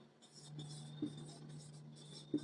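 Marker or chalk scratches across a board during a spoken English lesson, a continuous close scraping of strokes with brief pauses between them and a couple of soft taps.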